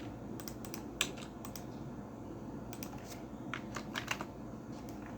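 Faint, close clicking of keys on a computer keyboard as a command is entered in AutoCAD. The presses come in irregular little clusters over a steady low room hum, and no speech is heard.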